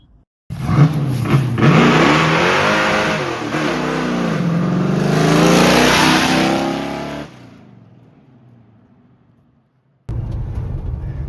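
A 1979 Ford fitted with Holley Sniper 2 EFI revs hard and accelerates while burning its tires, a loud close roar that climbs, then fades away and drops to silence before engine noise returns.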